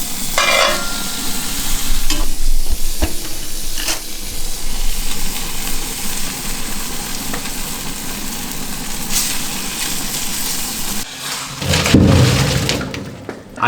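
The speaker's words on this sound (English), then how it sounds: "now we're gonna go throw it on the barbecue." Spiced fish cooks on a barbecue grill with a loud, continuous sizzle and crackle, and a few louder clatters and shifts near the end.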